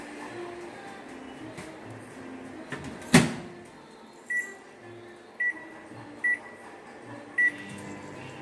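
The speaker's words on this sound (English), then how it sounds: "And putting in the oven for 2 minutes." Kitchen oven heating food for two minutes: a low steady hum under a sharp clunk near the start, then a series of short electronic beeps spaced about a second apart, fairly close by.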